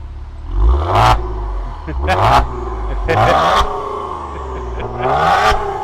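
A 2017 Maserati Quattroporte GranSport S engine revs repeatedly, rising and falling in several loud surges with rattling exhaust, while voices talk nearby.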